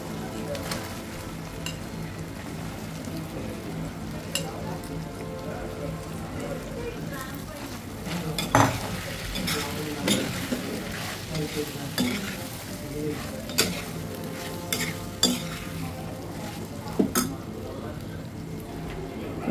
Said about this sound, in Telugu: దీన్ని కొద్దిగా వేగనివ్వాలండి.